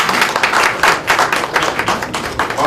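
An audience at a bhajan CD release programme claps loudly and close, uneven bursts of hand claps pulsing in quick clusters without voices.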